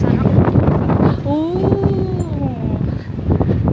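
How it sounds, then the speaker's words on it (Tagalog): Strong wind buffets the microphone on the open hilltop at One Tree Hill Monument, a loud, continuous rumble with a faint tonal whistle in the middle and a voice under it. "Mahangin."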